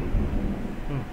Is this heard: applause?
no